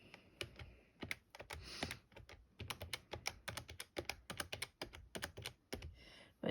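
Keys tapped on a calculator, a quick irregular run of close, crisp little clicks with short pauses between bursts, alone in a quiet room.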